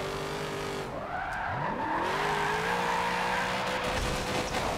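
Tires squealing and skidding as a car drifts with the handbrake pulled in the racing game Forza Motorsport 7, engine droning steadily while the pitch sweeps and bends through the slide, loud and continuous with no talking.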